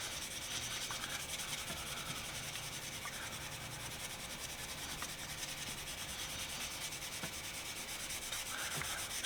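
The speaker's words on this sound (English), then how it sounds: "Clean up the shaft a little bit with this steel wool infused with the wax." Steel wool loaded with wax rubbing along the metal shaft of an old rusty screwdriver during restoration, a steady quiet scrubbing hiss that continues throughout, close and faint.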